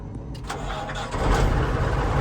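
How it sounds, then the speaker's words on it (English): An old farm tractor engine starting: a few loud cranking turns, then the engine catches and settles into a steady rough idle, close and loud. "let's get this old tractor fired up"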